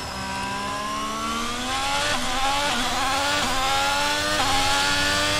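An F1 race car engine in the video game F1 22 whines at high revs, climbing through gears with repeated upshift dips, loud and continuous without talk.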